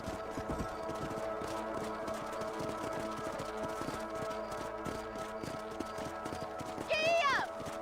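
Horse hooves clip-clop in a steady galloping rhythm while riding in Red Dead Redemption, loud and close over a continuous music-like game background, with a brief rising whinny-like call near the end.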